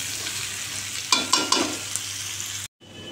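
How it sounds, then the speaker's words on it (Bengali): Cumin powder and other spices fry in a pan of paneer curry with papaya and potato, giving a steady sizzle with a few scraping stirs near the middle before a short sudden cut-out. "এবার তোমার একটু ভালো করে নেড়ে চেড়ে এর মধ্যে জিরের গুঁড়ো দিয়ে দেবো"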